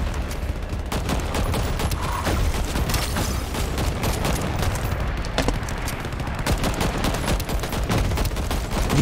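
A rapid-fire gun in the shooter game Shatterline fires in a continuous stream of sharp, close, loud shots, with dense repeated cracks throughout and no talking.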